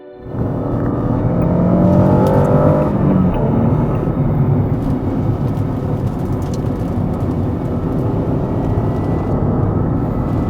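A 2005 Acura NSX engine gives a loud, close, steady roar that swells quickly at the start and then holds a dense rumble, with no talking.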